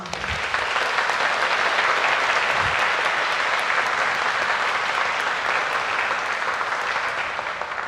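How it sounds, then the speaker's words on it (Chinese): A church congregation bursts into sustained applause to welcome a visiting mission team, a dense, even wash of many hands clapping that swells in and holds steady for several seconds before easing slightly at the end. "咱搁一摆拍手，互我来欢迎。"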